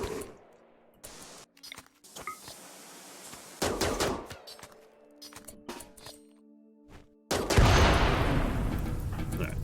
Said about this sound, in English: Didn't know it was going to be that large of an explosion.